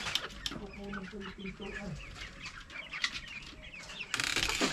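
Chickens clucking in a rural Filipino farm setting, several hens calling in short bursts over steady background noise, with a brief flutter of wings and a burst of broadband noise near the end.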